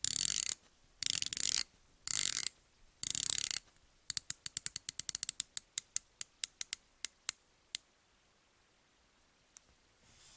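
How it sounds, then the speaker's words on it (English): A diver watch's rotating bezel turned by hand, giving a rapid run of sharp, close ratcheting clicks that slows to a few spaced clicks and fades out, with no talking. "And here is how this bezel sounds."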